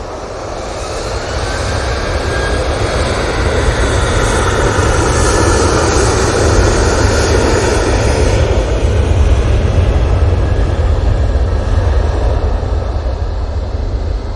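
TUI airliner at Manchester Airport, a loud, close engine roar with heavy low rumble swelling and holding for several seconds, no voices over it.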